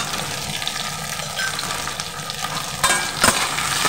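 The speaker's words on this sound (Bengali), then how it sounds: "একটু নেড়ে নেব।" Mung dal with sweet potato, turmeric and salt sizzles in a hot pan while it is stirred. The frying hiss is close and continuous, with a few louder scraping bursts near the end.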